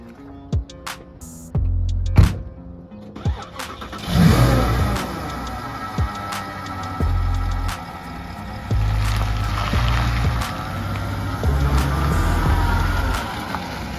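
An upgraded Lada car engine starting up after brief clicks and clunks, then settling into a steady, loud idle with occasional revs, close by, in Ukraine.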